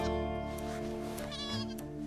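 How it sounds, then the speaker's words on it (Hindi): A baby goat bleats in a long wavering cry, loud and close, over a steady background hum in an indoor drama scene. "बकरी का बच्चा मिमियाने लगा है,"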